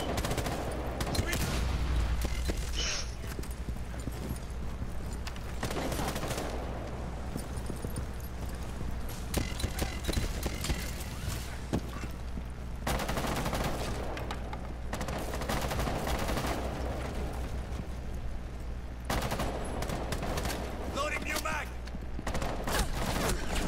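Gunfire in Rainbow Six Siege, played on PlayStation: repeated bursts of shots and clattering mechanical noise over steady game ambience, with people talking at times.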